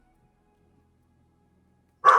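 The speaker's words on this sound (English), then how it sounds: "Hang on, I have to go deal with the dogs." A dog's bark bursts out suddenly after a stretch of near silence, a single short close yap at the very end.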